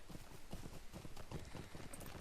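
Horse hooves clip-clopping in Lord of the Rings Online (LOTRO), a steady rapid trotting rhythm at moderate level under continuous game ambience.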